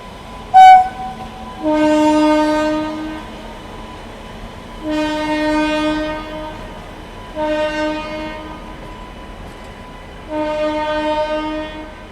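The Wodeyar Express locomotive pulls in at platform 10 in Bengaluru, sounding four long, loud horn blasts a few seconds apart over a low background rumble.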